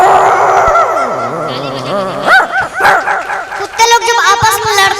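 A young performer at a gathering in Siwan, Bihar, imitates a dog with a burst of close, loud yelping barks and whiny whimpers, mixed in among people's voices.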